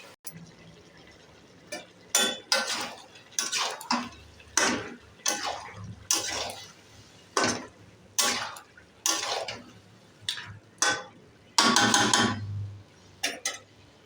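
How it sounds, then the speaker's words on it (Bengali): Marinated mutton pieces and potatoes stirred and fried in mustard oil, with a dozen or so sharp scraping and clanking strokes of a spatula against the pot coming in steady repeated bursts over a low sizzle, close and fairly loud. "ম্যারিনেট করে রাখা খাসির মাংস আলু আমি ভালো করে কষে নেব।"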